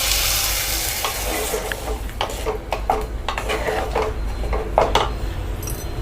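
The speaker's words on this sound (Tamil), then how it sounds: "இது வந்து ஒரு 2 நிமிஷம் நல்லா வதங்கட்டும்." Loud, steady sizzling of vegetables and ground paste sautéing in a pan for moong dal sambar, close up, with frequent clinks and scrapes of a utensil stirring.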